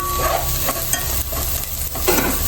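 Green chillies and garlic stir-frying in a pan for chicken fried rice make a steady close sizzle, with scraping stirs surging now and then over the constant crackle.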